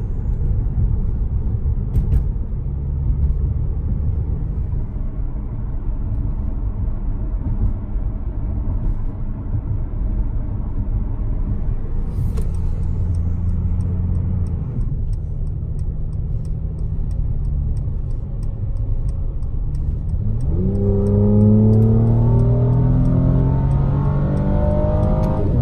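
A Mercedes-AMG C43 engine in Sport Plus mode rumbles steadily throughout, with occasional small pops from the exhaust and a rising rev near the end; no voices are heard.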